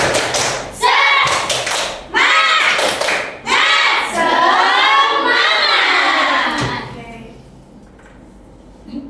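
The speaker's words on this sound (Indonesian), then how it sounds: "Tepuk semangat." A classroom of students performs a spirited clapping chant, loud rhythmic claps close by mixed with children's shouting voices, then fading to a quieter room.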